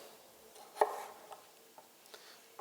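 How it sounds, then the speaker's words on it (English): A knife cuts a potato into fries on a board, one sharp close chop followed by a few lighter, quieter cuts spaced out in a quiet room. "Then cut this into my fry size"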